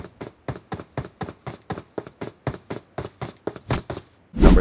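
Enemy footsteps in a video game sound as a steady run of evenly spaced thuds, each step sharp and distinct, growing slightly louder toward the end before a heavier burst of noise.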